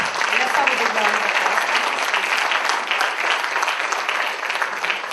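Loud, sustained applause from an audience fills the whole stretch, dense steady clapping with a voice faintly underneath.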